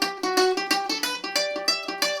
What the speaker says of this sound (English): If you play too close to the bridge, you get a very thin sound, which sounds like this.